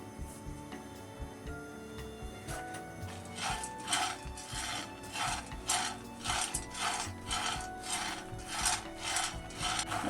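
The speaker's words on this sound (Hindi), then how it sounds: "इनको पहले हल्का सा भून लेना है" Chickpeas being lightly dry-roasted in a pan for sweet laddus scrape and rattle under a stirring spoon, a faint rough rubbing that turns into a quicker, rhythmic scraping halfway through.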